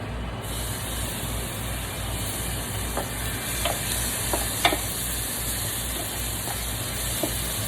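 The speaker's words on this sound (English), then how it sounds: "My garlic fry up real good." Garlic frying in oil at the bottom of a pot, giving a steady, even sizzle with a few small pops and clicks scattered through it.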